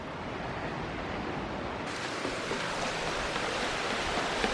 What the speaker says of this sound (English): I hear the water.